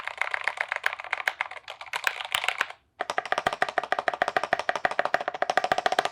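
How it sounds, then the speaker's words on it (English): Fast typing on an SK96 keyboard fitted with Gateron optical brown tactile switches, dense clattering keystrokes in quick bursts with a short pause midway, close and crisp with no speech. "these are the Gateron optical brown switches, which are an optical switch that are tactile"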